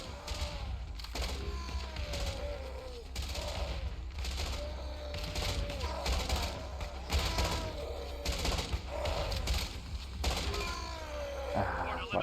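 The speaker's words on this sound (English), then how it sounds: "We can shoot them across the wall and stuff." Rapid gunfire from defenders in the zombie survival strategy game Infection Free Zone, firing across a wall at infected. The shots crackle steadily and fairly quietly for the whole stretch, mixed with faint groaning and background game noise.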